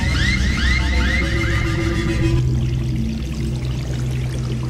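Water pouring continuously into a container, a loud, close rushing stream under a repeating warbling alarm-like electronic tone that stops midway, after which the pour carries on alone.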